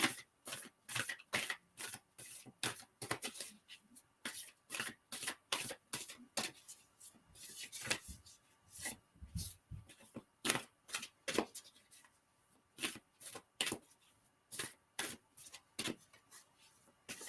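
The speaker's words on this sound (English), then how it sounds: "I like to shuffle them and make sure my hand touches at least every card" Oracle cards shuffled by hand at close range, a long run of quick papery riffles and soft slaps in an uneven rhythm with brief pauses, no talking.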